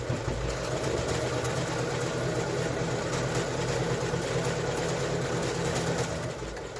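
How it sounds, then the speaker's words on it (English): Sewing machine stitching fabric for a face mask, a steady continuous motor whir with rapid needle clatter running unbroken throughout, fairly close and even in level. "Put your foot down and then sew to the next corner"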